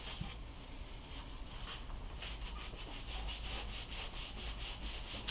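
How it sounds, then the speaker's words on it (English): A microfiber cloth is rubbed over bare wood to buff in wax, producing soft repeated swishing strokes at a steady rhythm, close and fairly quiet, with no speech. "I'm using the microfiber cloth again because that's the most effective at grabbing all the extra wax"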